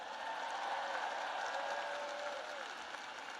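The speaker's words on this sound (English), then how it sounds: "let's give a big round of applause" Steady applause from a large audience at a commencement ceremony, continuous and fairly distant, with a faint voice drifting underneath.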